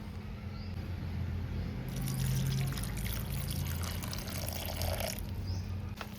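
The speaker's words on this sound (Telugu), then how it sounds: "1 పావు లీటర్ వాటర్ పోసుకోవాలి." Water is poured steadily into cooked rice in a pressure cooker for sambar rice, a soft continuous trickle and splash, fairly quiet and close, with no one talking.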